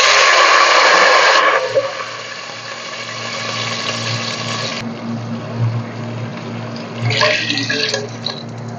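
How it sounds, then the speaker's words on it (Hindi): Water pours into a hot pot of lightly browned onions and crackling cumin for rice, a loud hissing sizzle at first that settles into a steady bubbling simmer, with another brief splash of sizzle near the end. "इसमें हमने पानी ऐड करना है"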